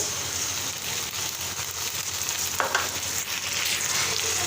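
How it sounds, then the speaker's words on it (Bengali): A constant, dense sizzle of spices frying in a hot wok, close and steady, with one brief scrape partway through. "এখন আমি মশলাগুলো ইয়ের মধ্যে কড়াইয়ের মধ্যে দিয়ে দিচ্ছি"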